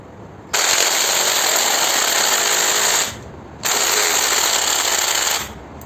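A cordless screwdriver drill set to speed 2 and torque 18 whirs loudly at high speed in two bursts of about three seconds each, with a short pause between them.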